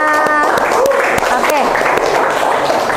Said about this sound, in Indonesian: Oke, berikan tepuk tangan semuanya.